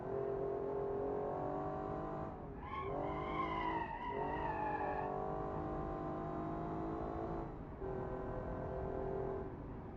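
Video game car power sliding through a handbrake turn, a steady engine drone with tonal tire squeals rising and warbling in the middle, plus a shorter squeal later, loud and continuous.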